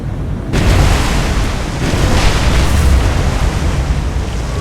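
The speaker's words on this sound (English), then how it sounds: "Explosions." Explosions rumble through a naval battle in the War on the Sea game, a loud sustained broadband roar with layered booms and crackling blasts, steady and dense with no pauses.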